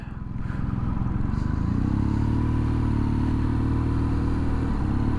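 A 2022 BMW R NineT Scrambler motorcycle rides at a steady pace, its boxer engine giving a continuous low rumble with a slight rise in pitch partway through, over constant wind noise and no talk.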